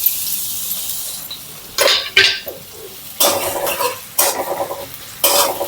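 Onion frying in hot oil in a kadhai for dhesa bhaji: several close bursts of sizzling and stirring scrapes come in uneven pulses, each flaring loud and then easing off, with no talk.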